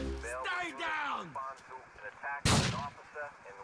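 Gunfire in the video game Grand Theft Auto 4 rings out in a close, sharp burst amid loud shouting and chaotic voices, with other game sounds under the talk.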